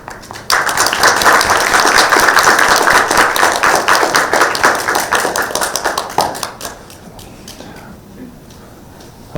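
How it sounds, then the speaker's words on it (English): An audience at a sommelier selection competition claps for the next candidate, a crisp burst of applause that starts suddenly, holds loud, then thins into scattered individual claps before dying away. "So please, may we give a round of applause to our next candidate."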